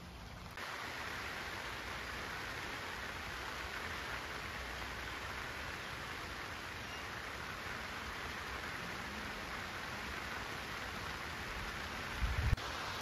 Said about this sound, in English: It started to rain again.